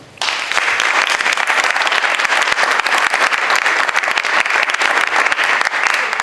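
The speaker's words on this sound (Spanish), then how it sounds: "en esta charla el maestro Román Villalobos, con el que también pido un aplauso" An audience applauds at a university talk, dense steady clapping that starts abruptly and carries on at full strength for about six seconds, close and loud.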